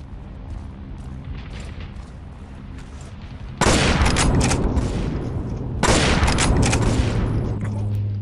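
Rifle gunfire in the World War Heroes shooter game, two loud bursts of rapid shots that start abruptly after a quieter stretch of background game noise.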